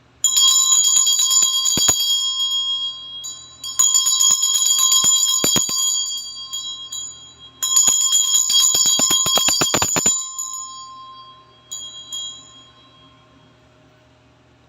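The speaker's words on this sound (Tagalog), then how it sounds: "Medyo maingay po itong aking bell." A bright metallic bell rings in repeated bursts, each clang shimmering and slowly fading, with a few softer strikes near the end.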